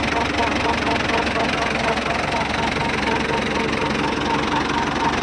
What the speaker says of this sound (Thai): จะมีเสียงดังอยู่ที่ท่อนเกียร์นะครับดังกึกกึดกึดกึกนะครับ